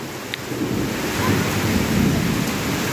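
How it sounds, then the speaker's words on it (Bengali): Steady rain pours over a village in Krishnanagar Union, Faridpur district, with a low thunder rumble rolling beneath the continuous hiss; a storm is underway and the wash of sound stays loud and even throughout. "আট নং কৃষ্ণনগর ইউনিয়নে বৃষ্টি হচ্ছে শুধু বৃষ্টি না পাশাপাশি"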